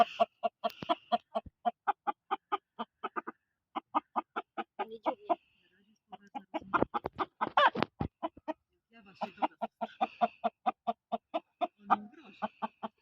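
Young chickens and a rooster in an outdoor run give rhythmic, repeated clucking calls in quick bursts, with short pauses and a louder squawk in the middle.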